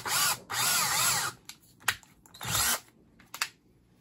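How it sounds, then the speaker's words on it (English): A handheld power drill spins in short bursts, a high whirring whine that rises and cuts off several times, close and alone with brief pauses between runs. "And right now it's in the drill."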